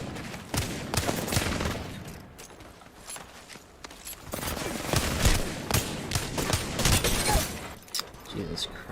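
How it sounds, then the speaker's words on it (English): Gunfire in a shooter game while the player takes incoming fire: scattered sharp shots and quick bursts crack at varied distances over a steady rumbling background, with some talking between them. "They spotted me. I'm taking shots."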